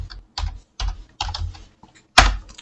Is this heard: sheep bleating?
no